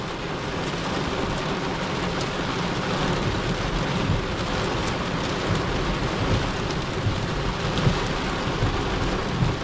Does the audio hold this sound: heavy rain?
yes